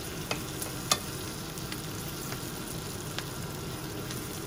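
Butter and flour roux sizzling in a pan on a lowered hob, a soft steady crackle with a few sharp clicks and taps of utensils, close and fairly quiet.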